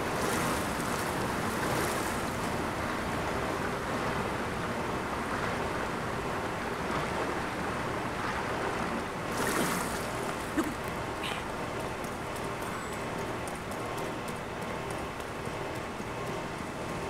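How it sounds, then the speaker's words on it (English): Waterfall in Zelda: Tears of the Kingdom, a constant broad rushing roar of falling water, loud and unbroken for the whole stretch with no talk. "It's a waterfall"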